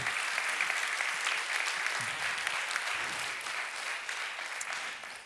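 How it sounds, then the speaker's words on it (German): Audience applause at the Jugend forscht regional award ceremony in Augsburg as a prize winner is honoured, a broad, even wash of many hands clapping that holds steady from start to finish. "Viktoria bekommt ihren Applaus."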